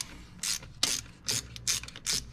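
A ratchet clicks in five or six quick bursts while loosening the fuel rail mounting bolts on an RB26DETT engine, close and crisp with short pauses between strokes.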